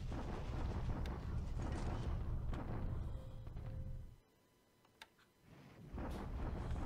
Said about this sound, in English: Bombarding south at Guiyang, he is.